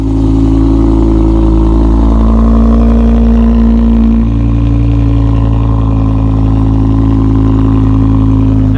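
Loud, steady engine drone of a repaired, previously wrecked BMW M5 cruising, with a deep constant hum and slight shift in pitch midway; no talking.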